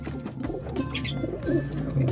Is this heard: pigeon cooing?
yes